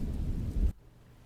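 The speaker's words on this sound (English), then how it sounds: "the rain is getting heavier by the minute" Heavy rain and a deep thunder rumble in the Blair Witch video game, a brief low roar that cuts off abruptly into a faint wet hiss.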